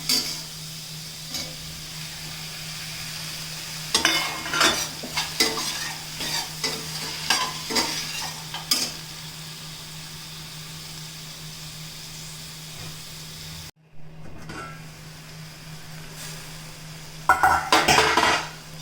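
Green chillies and tomato fry in a pan of oil with garlic, a constant close sizzle marked by bursts of spatula scraping and clattering, a brief quiet gap, then more stirring at the end; no talk.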